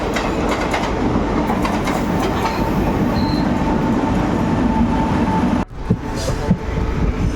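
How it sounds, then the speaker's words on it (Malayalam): A train arriving at a station rumbles steadily close by with continuous rolling wheel noise, followed by a brief sharp clunk and lighter rattling as it slows. "നമ്മുടെ ട്രെയിൻ ഇതാ എത്തിക്കൊണ്ടിരിക്കുകയാണ്"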